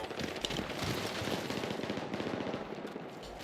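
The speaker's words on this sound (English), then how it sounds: "What are they shooting at?" Faint, distant rattle of video game gunfire, with rapid bursts crackling continuously at low level during a battle over an objective.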